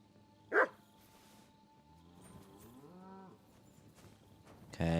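A single short bark from a dog in Kingdom Come: Deliverance II, sharp and fairly close, followed by quiet background and low animal sounds, ending with a loud burst.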